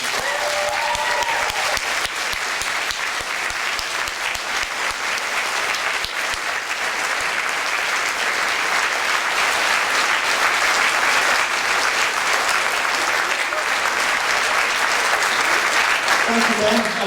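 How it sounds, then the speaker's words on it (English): An audience at the Ben Lockwood Award gives a round of applause in his memory: dense, steady clapping that stays loud and sustained for the full length without easing off. "if we could give him a round of applause"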